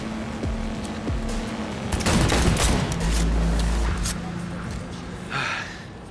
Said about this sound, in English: Weapons sound amazing in this game